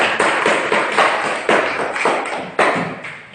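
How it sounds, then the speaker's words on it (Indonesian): Applause from a classroom of students for their classmates, a loud, steady patter of many hands clapping together close by, swelling in a few pulses over several seconds with no talk. "berikan aplaus kepada teman kalian"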